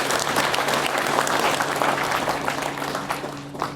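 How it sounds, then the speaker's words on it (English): Clapping from an audience at a Crown Paints company event in East Africa, a full, steady round of applause lasting several seconds with a faint low hum underneath and no talk. "let's give Jesse and the team a good applause."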